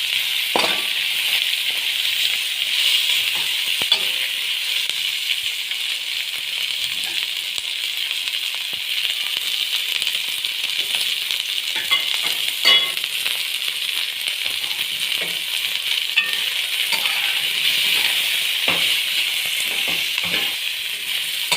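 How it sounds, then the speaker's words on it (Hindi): Capsicum (bell pepper) pieces fry in a hot pan with a steady, loud sizzle, while scattered clicks and scrapes of stirring sound up close over about twenty seconds, with no talk. "हमने इनको ऑनली जो है हाफ फ्राई करना है, ताकि ये क्रंची क्रंची सी हो।"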